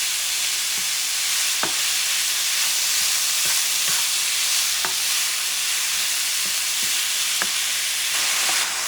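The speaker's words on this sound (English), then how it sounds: "Mix the onions and the pepper." Onions and peppers fry in a pan, a constant bright sizzle broken by regular sharp clicks and scrapes of the spoon as they are stirred, close and without voices.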